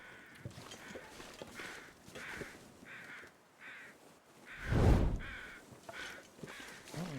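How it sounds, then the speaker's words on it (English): Crows caw in the distance in The Long Dark, several separate calls spread over a wintry game soundscape, with footsteps crunching underneath and one louder low rumble midway. "I can hear the crows in the distance."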